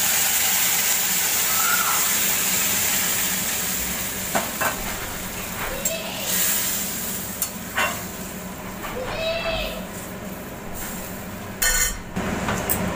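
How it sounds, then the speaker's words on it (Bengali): Hot water poured into a sizzling pan of curry with beans, a steady hissing sizzle that settles into a bubbling simmer, with occasional clinks and scrapes of a utensil against the pan. "আমি এখানে গরম জল দিচ্ছি।"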